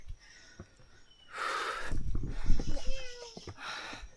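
A cat on a mountain trail lets out a loud, drawn-out meow up close, with a few softer calls, shuffling and faint outdoor noise around it.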